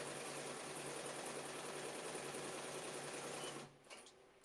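A Bai Mirror embroidery machine stitches quilted laptop bag panels with a loud, steady, rapid mechanical whir that runs continuously, then stops abruptly near the end, leaving a few faint clicks.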